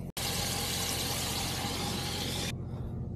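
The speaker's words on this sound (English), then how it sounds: "I hear the well pumping right now" A residential water well pump powered by a surplus diesel generator runs as a steady hissing rush of flowing water with a low hum beneath. It starts abruptly after a short gap and cuts off near the end.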